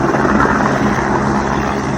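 A helicopter at the Kedarnath helipad makes a loud, steady, dense roar of rotor and engine noise throughout, close and continuous with no voices.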